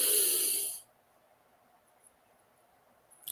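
A single deep breath is drawn in loudly and close for just under a second, followed by near silence.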